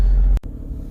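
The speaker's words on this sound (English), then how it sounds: "right now I'm warming up the car" A car engine idles while warming up at night before a drive, a steady low rumble close by with a brief dropout midway, alone without talk.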